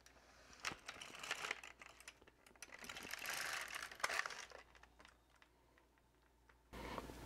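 An LK150 knitting machine carriage pushed across one row of a corner-to-corner diagonal dishcloth, giving a steady close mechanical whir and clatter that swells and fades, with a short louder burst at the end.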